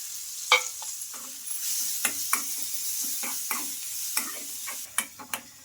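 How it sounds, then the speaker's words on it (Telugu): Grated carrot drops into hot oil with fried dals for oats idli, sending up a steady sizzle under sharp, irregular clicks and scrapes of a stirring spoon against the pan, close and with no voices. "ఆ పప్పులన్నీ బాగా వేగిన తర్వాత ఇందులోకి క్యారెట్ తురుము అయితే వేసుకుంటున్నానండి"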